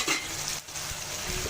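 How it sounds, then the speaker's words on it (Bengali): Chicken sautéing with spices in generous oil for haleem, a loud continuous sizzle with stirring and a short dip partway through, close up and with no voices. "কষিয়ে নেব চিকেনটাকে।"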